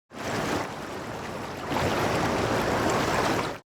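Sea water sound effect: a continuous rushing wash of surf and flowing water, fairly loud and close, that swells slightly halfway through and stops abruptly.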